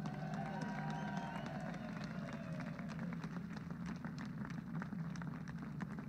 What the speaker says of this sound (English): You hear the applause ringing out